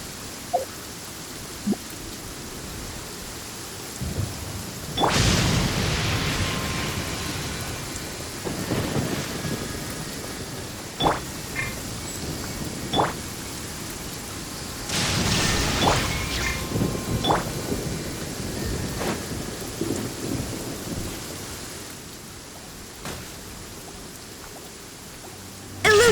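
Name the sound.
thunder and lightning in the video game Genshin Impact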